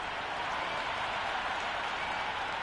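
Loud, steady roar of a cricket crowd in the Cricket 26 video game ahead of a T20 World Cup Super 8 match between India and Zimbabwe, a continuous wash of cheering and clapping with no pauses across the whole stretch.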